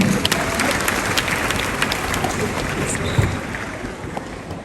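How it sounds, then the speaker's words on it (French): An audience applauding warmly at a university graduation ceremony, a steady, dense wash of clapping from a large crowd that fills the whole stretch without speech over it. "Je vous demande de les applaudir chaudement,"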